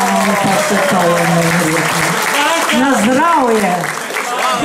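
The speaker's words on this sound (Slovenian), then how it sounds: "Aplauz, aplauz, draga publika, aplauz." Audience at a car-scrapyard anniversary celebration breaks into sustained applause, loud and close, with someone speaking over the clapping throughout.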